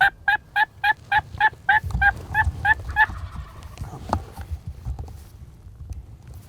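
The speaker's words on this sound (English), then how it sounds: "they started gobbling and they started progressing" Wild turkeys gobble in a rapid run of about a dozen loud, evenly spaced calls that fade out after a few seconds, leaving soft rustling, thumps and low outdoor background noise.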